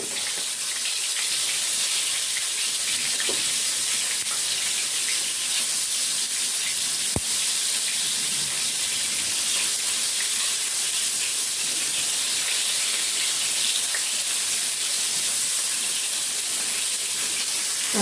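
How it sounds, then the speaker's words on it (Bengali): Pointed gourd slices fry in hot oil with a loud, steady hiss that continues unbroken, plus one brief click partway through. "তেল আমার গরম হয়ে গেছে আমি একটা করে সব কাকুর ঢেলে দেবো"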